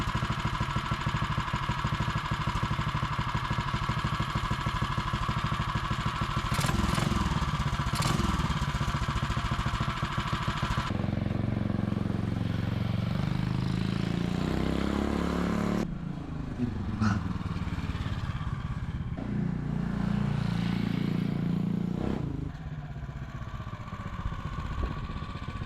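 A motorcycle fitted with a hot coil ignition runs loud and steady throughout the ride, its engine drone close and continuous, shifting in pitch and texture partway through, with no talk.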